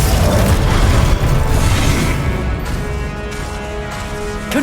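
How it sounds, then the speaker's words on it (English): Ice and force-push spells being cast in Hogwarts Legacy, dense booming magical blasts and whooshes that stay loud and continuous, with a fading ringing tail at the end. "Glacius. Depulso."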